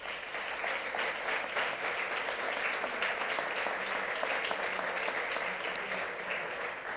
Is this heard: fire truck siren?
no